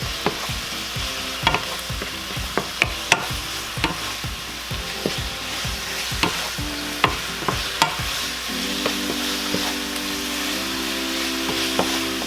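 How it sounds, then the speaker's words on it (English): Chicken fajitas sizzle in a skillet while a utensil scrapes and taps the pan in a regular rhythm, over a steady frying hiss and a low hum, with no talking. "Get this all mixed real well."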